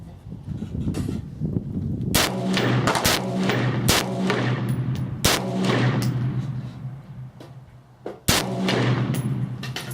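An AR-15 rifle fires its first rounds outdoors, a string of sharp, loud cracks spaced irregularly over several seconds with a heavier report near the end.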